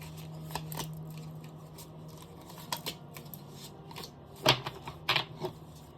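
Tarot cards handled and picked from a deck, with soft slides, shuffles and a few sharper card snaps in a quiet room, close and fairly faint, with no talking.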